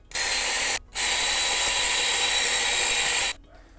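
A power drill fitted with a 5/8 inch (16 mm) Forstner bit bores into a workpiece with a loud, steady whirring drone in two runs, separated by a brief pause, then stops.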